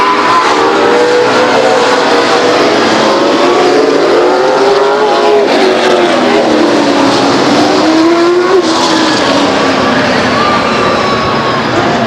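Race cars roar loudly and continuously around the Stockton 99 Speedway oval during a 100-lap Shell Tri-Track Challenge, engines rising and falling in pitch as cars pass, with a faint announcer voice underneath.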